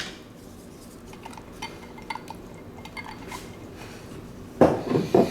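Eggs, milk and crushed Ritz crackers being stirred together in a bowl for meatloaf, quiet wet mixing with light utensil taps, then a louder burst of clattering and sloshing near the end, no speech.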